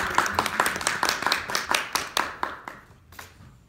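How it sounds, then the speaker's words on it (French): Audience applause at a Toastmasters club meeting, a small group clapping steadily with a few close, distinct claps, gradually thinning out and fading near the end. "Applaudissements tout le monde."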